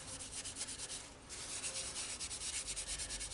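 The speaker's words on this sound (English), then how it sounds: "just by burnishing it very gently, you can see it's getting a lovely finish on that now." Wood wax is burnished onto a turned wooden goblet, giving a soft, rhythmic rubbing hiss that repeats steadily and stays faint and close.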